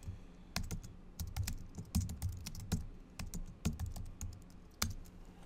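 Someone types on a computer keyboard while entering a stadium name into a ticket sales spreadsheet, producing a close, irregular stream of crisp key clicks and thumps in quick bursts, with no speech.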